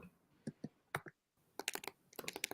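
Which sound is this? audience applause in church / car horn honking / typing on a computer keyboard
typing on a computer keyboard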